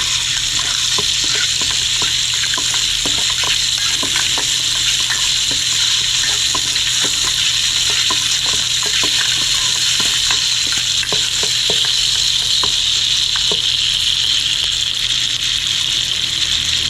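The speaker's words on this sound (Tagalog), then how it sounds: "Lutuin lang po natin maigi yung ating sibuyas at bawang" Onion and garlic fry in a pan, a steady bright sizzle running throughout, with repeated clicks and scrapes of a utensil stirring against the pan.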